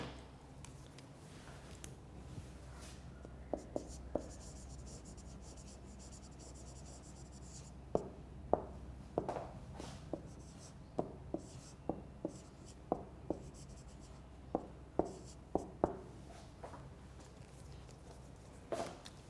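Chalk or marker writing on a board during a lecture, producing a series of short scratchy taps and strokes in irregular bursts over a quiet room hum, with faint room sound and little talk.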